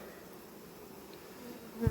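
Honey bees buzz continuously around an active hive in spring, a dense steady hum close by, with a brief louder knock at the end.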